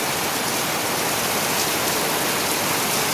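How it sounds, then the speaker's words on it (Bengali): Heavy rain pours steadily, a dense, even roar of water close by with no pauses, filling the whole clip without any voices. "প্রচন্ড রকমের বৃষ্টি হইতেছে আজকে"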